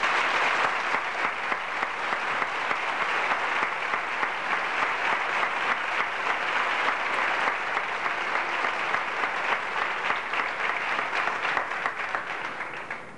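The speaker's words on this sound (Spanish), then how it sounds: "Un aplauso a los de arriba." Sustained audience applause at a brotherhood ceremony marking the refounding anniversary of the Cofradía Virgen de la Guía, a dense, steady clapping that holds strong for about thirteen seconds before thinning slightly at the end.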